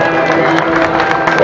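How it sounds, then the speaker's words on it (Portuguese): Applause from a crowd thanking the Centro Social de Santa Maria de Serradora at the São João marchas festival in Castelo de Paiva: a dense, steady patter of clapping that stays loud and even throughout. "Uma grande salva de palmas para eles"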